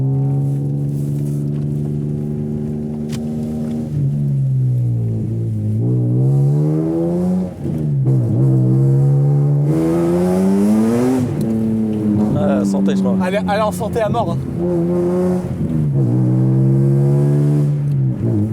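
A BMW M5 tuned toward 2000 horsepower revs loudly and repeatedly, its engine pitch climbing and dropping in long sweeps close by, while people talk over it in French.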